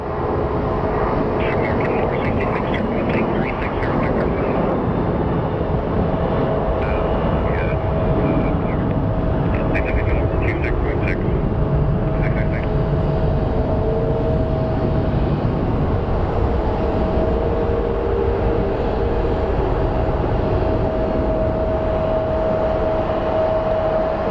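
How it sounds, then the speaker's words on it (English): A Sun Country Airlines jet at Phoenix Sky Harbor airport gives off a loud, continuous engine roar that holds steady throughout, with a voice talking faintly in the background. "And then we have our Sun Country Airlines headed to Minneapolis."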